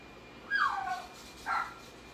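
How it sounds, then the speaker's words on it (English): Dogs vocalize indoors with two short, whiny yips or whimpering barks about a second apart, faint and thin against a quiet background. "And there go my dogs"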